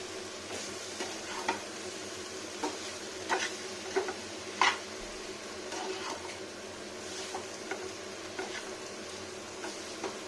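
Broccoli with capsicum, onion, garlic, butter, fennel seeds and whole garam masala gets stirred in a pan over low heat, a soft continuous sizzle broken by light, irregular scrapes and clicks of the spatula.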